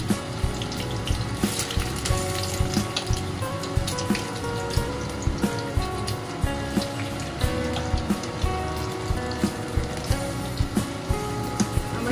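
Chicken pieces frying in a pan over medium-low heat for dry chilli chicken, giving a steady crackling sizzle with scattered pops and spatters throughout, close and continuous with no talking.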